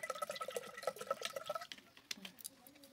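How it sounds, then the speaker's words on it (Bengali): Water is poured into a pot of rice while cooking, a close, faint burst of splashing and trickling that tapers into a few scattered drips. "একটু কেনা জল দিই, এই জলটা দিলে ভাতটা খুব ভালো হয়।"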